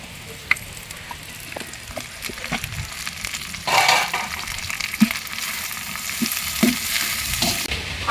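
Mint and coriander frying with softened onions in a pan for mutton biryani: a low steady sizzle with scattered stirring scrapes and clinks, a louder burst of hiss partway through, no talk.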